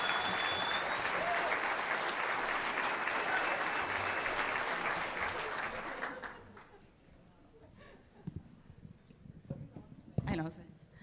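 Dense audience applause fills a large summit hall, honoring a group of women on stage, then fades out after about six seconds into scattered claps and low room murmur.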